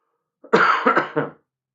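A single close, loud cough burst with a couple of quick rough pulses, then silence.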